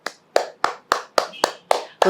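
Eight crisp hand claps in a steady, even rhythm, close and loud, each a sharp slap followed by brief silence.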